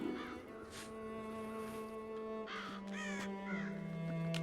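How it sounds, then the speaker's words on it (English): Crows caw repeatedly in the video game Child of Light, several harsh calls clustering in the second half over a sustained, melancholy cello-led musical backdrop. "So many birds."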